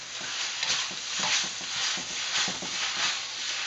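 Lo mein noodles and vegetables frying in a small wok, a constant close sizzle with soft rhythmic stirring and scraping pulses, fairly loud, with no one talking.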